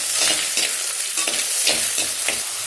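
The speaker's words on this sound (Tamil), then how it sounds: "சேர்த்திட்டு நல்லா வதக்குங்க." Finely chopped small onions (shallots) sautéing in oil on an induction stove, a steady close sizzle broken by repeated scraping stirs of a spoon through the pan, with no voices.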